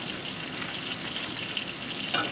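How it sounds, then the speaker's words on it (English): Steaks fry in brown butter in a pan, giving a steady, close sizzle with fine crackling throughout and a slightly sharper spatter near the end. "now they've cooked 3 minutes on the other side, and we've got this wonderful brown butter"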